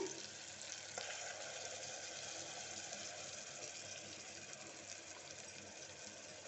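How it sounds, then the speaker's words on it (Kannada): Ground masala paste sizzles in a pan with cooked-down tomatoes for Bangalore-style chicken donne biryani, a steady close frying hiss with a faint stir clatter near the start and no talking. "ಮಸಾಲೆ ಪೇಸ್ಟನ್ನು ಹಾಕ್ಕೊಳ್ತೇನೆ."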